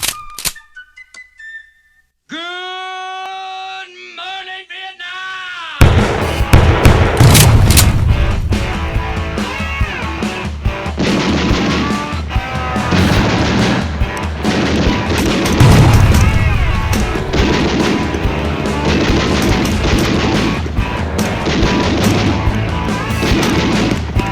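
Rapid bursts of heavy 25 mm M242 Bushmaster cannon fire from an M2A2 ODS-SA Bradley boom out loudly after a few seconds of quieter tonal sound, continuing in dense repeated volleys with a roaring background.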